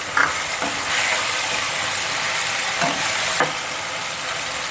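Curry leaves fry in hot oil for an Andhra-style prawn curry, a bright steady sizzle broken by a few scraping stirs in the pan, no talking.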